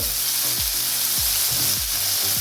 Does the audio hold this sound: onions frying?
yes